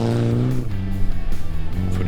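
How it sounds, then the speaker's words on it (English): A rear-wheel drive Ford Escort rally car roars past on a dusty gravel stage, its engine note rising and falling loudly under an announcer's continuous commentary. "The rear-wheel drive Ford Escort of Herman Bernard and JP Smith going through the"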